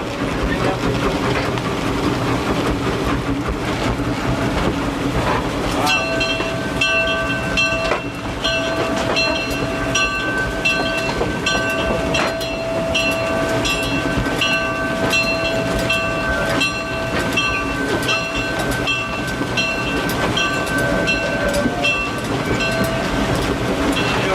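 A steam locomotive running at the Midwest Old Threshers gathering in Mount Pleasant, Iowa, loud and close, with a steady rumble, rhythmic clatter and sustained whistle-like tones throughout, and voices faintly under it.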